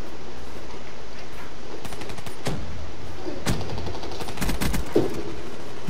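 Gunfire in the video game Call of Duty Black Ops 3: rapid machine-gun bursts and single sharp shots, loud and close, clustering toward the end over a constant game background, with no voices.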